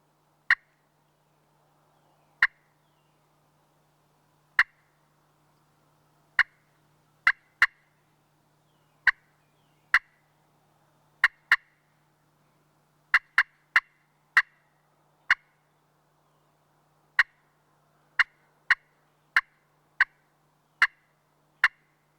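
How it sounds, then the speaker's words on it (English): Sharp, short turkey-call notes from a slate call, single clucks and quick runs of yelps spaced irregularly, crisp and close with quiet in between. "You can combine some yelps and some clucks."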